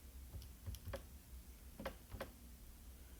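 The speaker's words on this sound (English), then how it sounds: "I'm typing it in exactly how I have it written" Quiet clicks of calculator keys being pressed, a few soft taps spread unevenly over a faint steady background hiss, with a small cluster of presses near the end.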